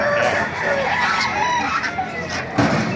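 Chickens and roosters at a busy poultry market in Baliuag, Bulacan, with steady clucking and squawking from many birds close by, a louder burst near the end, over a constant crowd din with voices talking.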